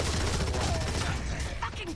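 Rapid gunfire rattles through a Gears of War 3 team deathmatch on the Thrashball map, a dense, continuous burst of shots with game noise layered underneath, close and loud for about two seconds.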